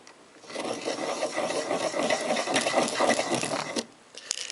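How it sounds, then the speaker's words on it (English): A blade rotates inside a copper pipe to shave off the burr, making a continuous close rasping, scraping rub for about three seconds with small irregular grinding pulses, then stopping. "insert the blade with the other hand into the pipe and rotate it around the inner wall clockwise or counterclockwise to shave off the burr"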